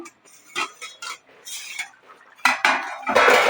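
A lid is handled on a cooking pot of ridge gourd curry, giving a series of metallic clinks and clatters that grow louder and busier toward the end, heard alone without talk.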